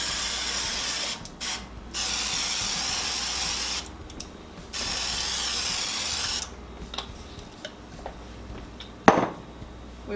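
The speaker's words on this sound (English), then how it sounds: "We're going to spray the cookie sheets." Cooking spray hisses from an aerosol can onto non-stick cookie sheets in several long, close bursts, followed by softer handling sounds and a sharp clatter of a metal pan.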